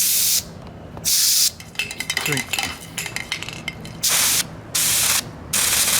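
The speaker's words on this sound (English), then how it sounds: "you had to hold it vertically to be able to spray it" An aerosol can hisses in several sharp bursts, separated by a stretch of clicking and rattling from handling the can, all close up.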